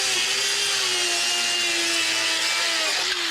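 A DualTools CS300 power saw whines steadily as it cuts through wood, a loud, continuous grinding hum with no voices.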